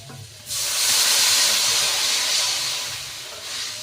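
Water poured into a sizzling fried curry base in a pan erupts into a loud, steady steam hiss and splutter that swells after a brief quiet start, then eases slightly toward the end.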